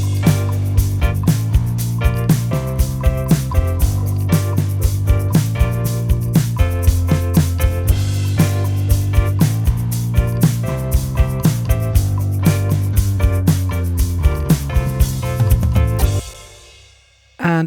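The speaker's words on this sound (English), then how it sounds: "I have a kick and a bass that both have a lot of low frequency energy." An electronic music track with a punchy kick drum and a heavy bass line, both rich in low end. The kick hits steadily in a driving rhythm for about sixteen seconds, then the track cuts off abruptly.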